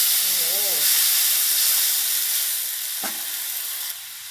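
Coconut milk hits a hot old pan for a Thai pineapple and pork belly curry, giving a loud, steady sizzling hiss that eases slightly over time. A single brief clink sounds partway through.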